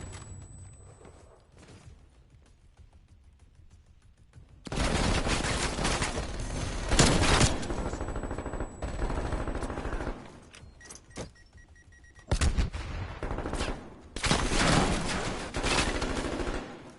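AK-47 gunfire in Call of Duty Warzone comes in loud, close bursts of rapid automatic fire. Several sustained volleys are separated by quieter pauses.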